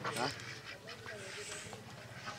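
Muscovy ducks and ducks on a farm, quacking loudly and close in a short burst, followed by softer scattered calls while people talk nearby.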